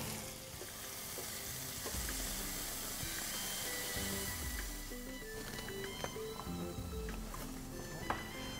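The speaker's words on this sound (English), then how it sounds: "I'm going to get started by sauteing the onions and tomatoes" Onions and tomatoes sauté in a pan with a steady, close sizzle, joined by scattered scraping and stirring clicks from a utensil throughout.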